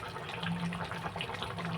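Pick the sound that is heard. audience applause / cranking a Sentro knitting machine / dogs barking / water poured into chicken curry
water poured into chicken curry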